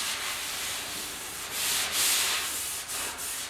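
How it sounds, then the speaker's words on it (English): 80-grit sandpaper rubbing across a steel door panel of a 1956 Mercury, a steady close scratchy hiss with a few stronger back-and-forth strokes and no talking. "Just give it a nice sand with some 80 grit."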